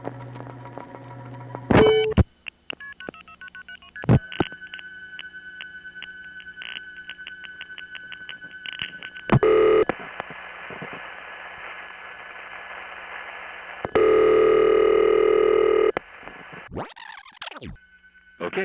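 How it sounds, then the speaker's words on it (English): Old telephone network call setup after a rotary dial digit: clicks and pops, steady tones and beeps in sequence, bursts of loud static-like noise, a long tone segment and a closing chirp, with no one talking over it. "let's take another listen to the way this call went through, starting with the last digit dialed on a rotary dial phone"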